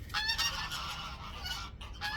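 A flock of geese honk loudly and continuously, several birds calling over one another in a noisy, overlapping chorus close by.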